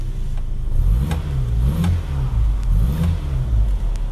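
A 1970s Austin Allegro engine revving with the window open, rising and falling in two or three loud, close throttle blips over a steady rumble; no talking.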